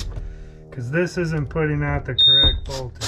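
A camper's power converter with dead batteries gives one short, high-pitched electronic warning beep under a man's speech.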